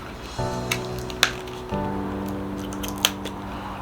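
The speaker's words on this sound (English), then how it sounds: "So we got our scissors here." Scissors snipping as they open a screen-protector package for an iPhone 11 Pro Max, a few sharp close clicks and cuts over a steady background hum.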